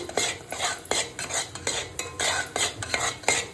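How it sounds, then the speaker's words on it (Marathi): Spices being stirred into hot oil in a pan for a pea and potato curry, with a steady run of scraping spoon strokes and a soft sizzle underneath, close and fairly loud, no voices. "त्याला तेल सुटत तोपर्यंत आपल्याला असं हलवत राहायचं"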